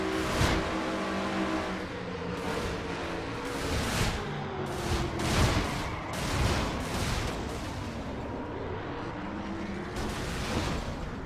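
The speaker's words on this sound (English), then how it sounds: "Almost too soon with the throttle there, Keith." A race car engine roars from an in-car camera during a stock car series race, revving hard and surging in waves through a turn after a crash, loud and continuous with no talk.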